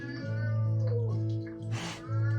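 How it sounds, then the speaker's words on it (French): A young kitten meows repeatedly and close by, with drawn-out, wavering cries and a short breathy squeak in between, and no talk over it. "Un chaton qui miaule"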